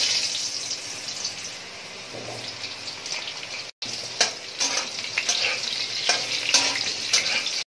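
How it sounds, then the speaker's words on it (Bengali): Potatoes fry in well-heated oil in a wok for a mutton curry, giving a steady loud sizzle with crackling bursts and a few stirring scrapes, with no talk over it. "তো প্রথমেই আমি আলুগুলো ভেজে নেব।"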